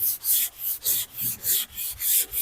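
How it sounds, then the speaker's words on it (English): Hand sanding on a car hood in X patterns to flatten low spots, rhythmic back-and-forth scratchy strokes, about eight passes close by, with no talking. "now we're going to start sanding in X patterns"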